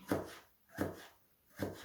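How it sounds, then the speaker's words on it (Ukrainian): A knife slices vegetable rings into thin strips on a cutting board for a light vegetable salad, making three soft, evenly spaced cutting strokes that are close and quiet, with no talk. "Спочатку ось так ріжу на кільця, а потім ось кільця нарізаю тоненькими смужечками"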